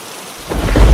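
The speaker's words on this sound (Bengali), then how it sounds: "যা বজ্রপাত হচ্ছে হঠাৎ" Thunder rumbles in and builds quickly over heavy rain, a deep swelling roar that grows louder toward the end of the short burst.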